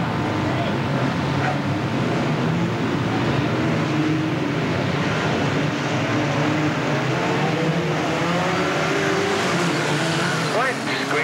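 BriSCA Formula 2 stock cars racing in a final at Boston in 1991, a dense pack of engines roaring steadily and loudly throughout, with crowd noise and some commentary mixed underneath.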